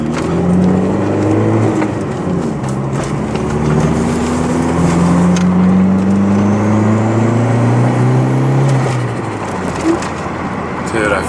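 A MK4 Jetta 2.0T engine revs during a night drive, its pitch rising and falling through several sweeping pulls, loud and close inside the car.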